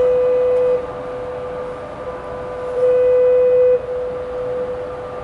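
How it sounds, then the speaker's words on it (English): A train passes behind anglers fishing at night, its horn sounding long steady blasts that start, drop away and return louder, over a continuous low rumble with no voices. "Yeah, we got the train behind us."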